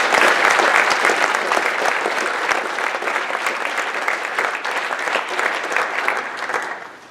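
Sustained applause from a banquet audience at an FFA awards event, a dense, steady clapping that holds for several seconds before tapering off at the end.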